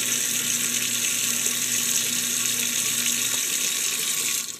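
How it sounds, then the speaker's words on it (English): An InSinkErator Evolution Excel garbage disposer runs in a kitchen sink while tap water flows: a loud, even water rush covers a low mechanical hum, and both cut off sharply at the end. "The water is way louder than the disposer."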